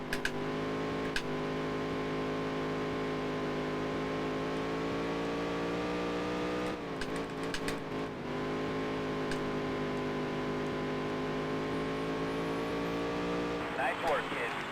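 Race car laps a dirt oval in the Dirt to Daytona video game, its engine a steady high-pitched whine rising and dipping through corners, with someone talking over it.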